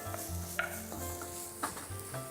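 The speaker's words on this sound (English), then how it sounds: "Normal vegetable oil is perfect for this recipe, to which I'm going to start off with the onions." Chopped onions fry in vegetable oil for a fish xacuti with a gentle, steady sizzle, broken by a couple of soft stirring scrapes and taps from a utensil in the pan.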